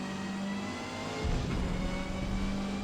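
A Subaru Levorg GT's engine drones steadily during an A-class race at the Nürburgring in Forza Motorsport, then swells louder and rougher partway through as the car powers up a sweeping uphill bend.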